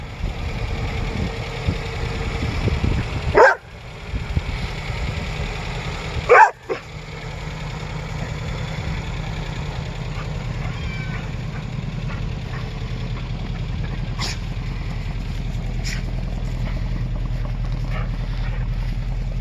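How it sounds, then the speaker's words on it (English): A 1979 Datsun 620 in need of a tune-up idles with a steady, even low rumble, while a dog lets out a couple of sharp barks early on before the engine carries on alone. "It sounds like a sewing machine"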